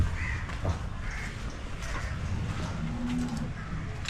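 A large cow lets out a low moo outdoors while crows caw nearby, over a constant background murmur.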